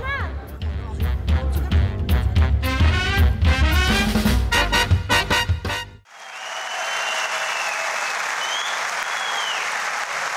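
A crowd breaks into loud applause to send off a performer on a televised talent show, entering over music that cuts off halfway, then continuing as a broad, steady roar of clapping.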